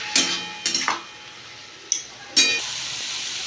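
Ash gourd curry stirred in a pan with a utensil, a few scraping, clinking strokes over a soft background sizzle, no speech.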